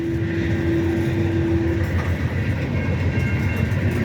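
Union Pacific coal train 7225 rumbles past close by, a loud steady roll of wheels and wagons with a sustained tonal hum early on, no voices.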